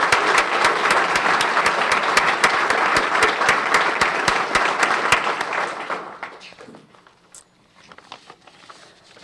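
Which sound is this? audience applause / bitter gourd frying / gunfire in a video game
audience applause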